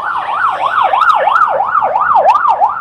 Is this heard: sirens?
yes